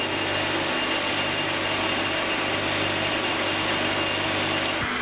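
Continuous harsh grinding noise as a flywheel is resurfaced, loud and steady, with a faint low hum underneath and a brief thump near the end.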